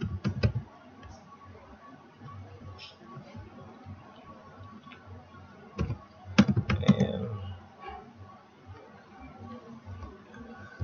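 Scattered keystrokes on a computer keyboard, light clicks in short bursts with a denser cluster near the end, fairly quiet over faint room noise.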